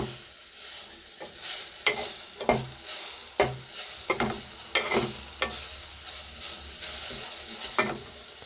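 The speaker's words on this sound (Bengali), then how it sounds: "এবারে ভালো করে গাজরটাও ভেজে নেব এর সাথে।" Grated carrots fry in ghee for a milk payesh, a soft continuous sizzle broken by repeated scraping strokes of a spoon stirring the pan, with no voices.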